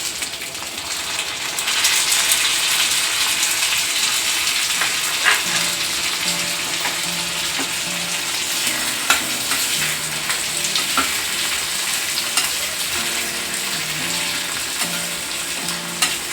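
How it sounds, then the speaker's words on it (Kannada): Tomatoes and onions frying in oil in a pan for bisi bele bath, a steady loud sizzle with occasional stirring clicks and pops, no voices. "ಇವಾಗ ನಾನು ಟೊಮೆಟೊನ ಹಾಕೋತಾ ಇದ್ದೀನಿ."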